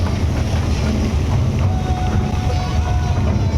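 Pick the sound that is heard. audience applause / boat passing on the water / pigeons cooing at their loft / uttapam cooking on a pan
boat passing on the water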